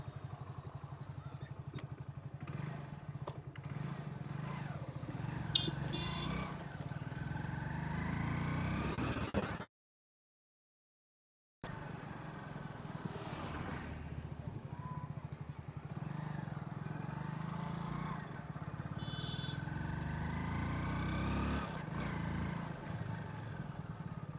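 A BS6 motorcycle running on test in a repair workshop: a steady low engine idle with faint clatter and a few thumps, briefly cut to silence before the running resumes, with no talk over it.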